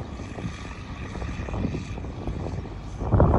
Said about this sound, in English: Hey, that's a Chinook.